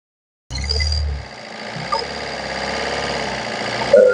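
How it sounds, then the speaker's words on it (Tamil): The diesel engine of a Maruti Swift VDI runs at idle, a steady, close mechanical hum with a slight rattle that continues evenly for several seconds with no talk. "இந்த வண்டியோட இன்ஜின் கண்டிஷன்லாம் எப்படி இருக்குன்னு செக் பண்ணிடலாம்"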